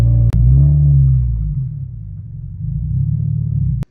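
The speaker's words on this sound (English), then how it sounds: "all the exhaust vibrations, all the noise comes right through the cabin" A deep exhaust rumble from a Toyota FRS with a 6-speed manual throbs inside its bare, gutted cabin, swelling loud at first, easing, then building again before cutting off abruptly.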